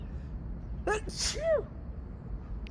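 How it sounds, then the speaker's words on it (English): A single sharp sneeze, near and fairly loud, preceded by a quick intake of breath, set against a steady low background hum. "I'm going to sneeze."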